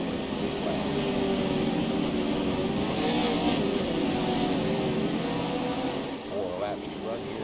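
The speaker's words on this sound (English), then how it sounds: "Make sure we get all the sounds of the racing" Pro4 4x4 off-road super trucks race just after the green flag at an off-road championship event, engines roaring in a steady, loud, sustained drone with shifting revs, while a voice talks over the noise.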